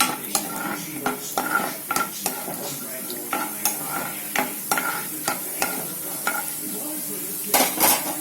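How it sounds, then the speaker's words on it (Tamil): Chana dal roasting in groundnut oil crackles with a steady sizzle while a spoon scrapes and stirs the pan in repeated rhythmic strokes, close and moderately loud throughout. "கடலைப்பருப்பை எண்ணெயில வறுத்துக்கணும்."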